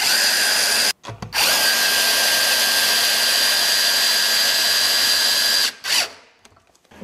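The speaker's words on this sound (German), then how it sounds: "dann pflanzt man die ganzen Schrauben da rein" A cordless screwdriver drives screws into a trapezoidal sheet-metal carport roof, running in a long steady whine of about four and a half seconds after a short burst, close and loud, then winding down.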